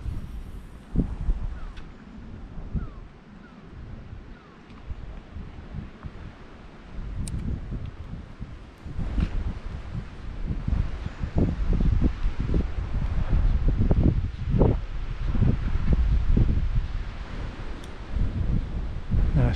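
Gusty wind blows across a lake bank, rustling leaves and buffeting the microphone in uneven surges that grow stronger and rougher toward the end, with no talking.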